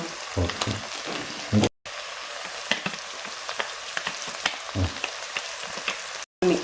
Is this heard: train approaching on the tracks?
no